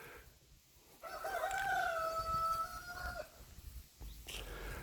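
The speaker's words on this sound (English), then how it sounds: "And we have in my village a rooster too." A single rooster crows one long, drawn-out call that rises and holds before trailing off, fairly close against a quiet outdoor background.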